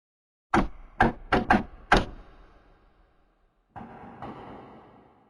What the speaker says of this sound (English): Gillig knocked lightly on the door